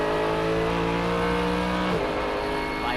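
GT race cars, including a Porsche, howl around Sonoma Raceway in a GT World Challenge America race, a loud continuous engine drone whose pitch drops sharply about two-thirds through as a car lifts or shifts.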